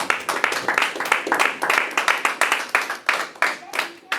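A church congregation claps and cheers in rapid rhythmic bursts while voices shout along over the applause.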